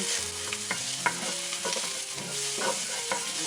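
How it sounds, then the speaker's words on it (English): Peppers sizzle and fry in a pan while being tossed and stirred, with steady crackling and the clink and scrape of a utensil in an irregular rhythm, close and fairly loud, with no talk. "I'm just going to toss in these peppers here, and then it's going to keep mixing them around."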